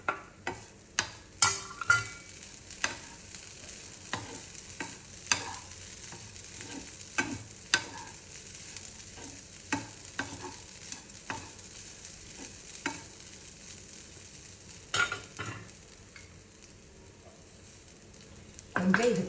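Cooked beans are stirred into a pan with crumbled dal for a Tamil meal, giving repeated scraping and knocking strokes of a spoon against the pan over a low sizzle, fairly close, with no talking.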